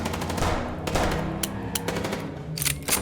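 Rapid video-game gunfire from Chicken Police, bursts of automatic shots crackling in quick clusters with sharper pops near the end, loud and close with no talk.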